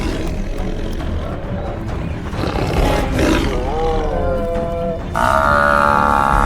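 A lioness charges a herd of buffalo on open savanna, raising loud, rough roars and bellows over a dense rumble of hooves and animal commotion, with a strained, wavering cry rising near the end.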